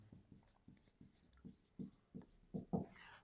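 A pen writes out a trouser length in a math exercise, a series of close, faint scratching strokes that build in a quick, uneven rhythm over a few seconds, with no talk.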